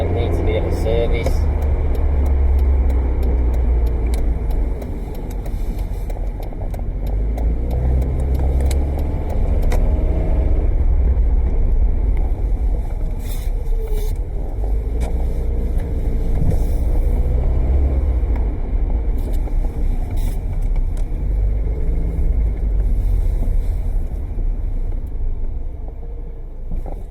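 Honda Jazz with a CVT automatic gearbox juddering and shaking while driving, a continuous low rumble of road and drivetrain noise from inside the cabin, with a voice talking over it.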